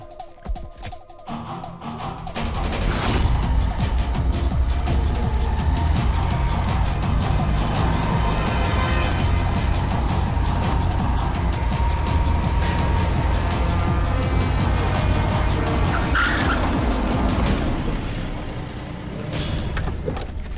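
A car pulls away and drives off, with engine and road noise swelling after a quiet start, holding steady and loud for a long stretch, then easing near the end.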